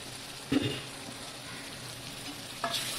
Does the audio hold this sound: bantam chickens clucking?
no